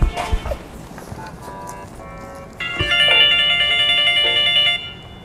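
A mobile phone rings with an incoming call, a bright repeating melodic tone that starts partway through and plays loudly for a couple of seconds after a few soft knocks and thumps.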